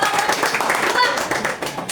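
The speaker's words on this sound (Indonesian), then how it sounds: "beri tepuk tangan untuk" Students in a classroom clap briefly during a quick-fire quiz, giving a short burst of close, rapid applause with a voice speaking over it.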